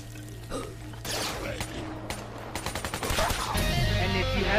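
Call of Duty Black Ops 3 Zombies gunfire, a few separate heavy shots followed by a fast automatic burst, loud and close over steady game background noise.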